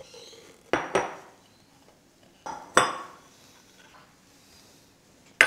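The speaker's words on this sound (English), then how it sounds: "So our first step is to put all our dry ingredients into the bowl." Dry gluten-free scone ingredients such as flour and baking powder go into a mixing bowl, heard as a few sharp clinks and knocks against the bowl, spaced apart with quiet pauses between them.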